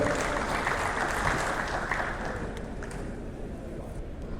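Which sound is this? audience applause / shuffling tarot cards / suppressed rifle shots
audience applause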